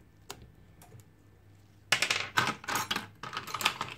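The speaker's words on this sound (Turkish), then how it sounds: "Evet, şu anda şarj flex'ini söküyoruz." The charging flex cable is pried out of an LG G2 phone, giving close, sharp plastic clicks and small tapping, snapping sounds that come in a quick irregular cluster after a few isolated ticks.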